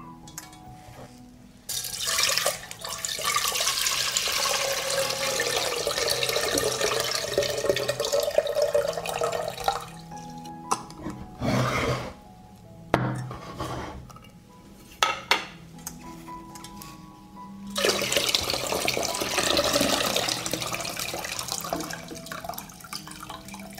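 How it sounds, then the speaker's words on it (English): Water poured from a glass jar into a saucepan splashes in long, steady streams broken by pauses, with clinks and knocks of glass and metal between pours in a kitchen. "I pour the water from the jar into a saucepan."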